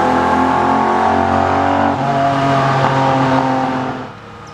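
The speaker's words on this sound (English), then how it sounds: "The car wails and screams so loud." A Ferrari 250 GT Lusso's engine wails loudly as it drives, a sustained harmonic tone that shifts pitch partway through and fades slightly at the end, with no one talking.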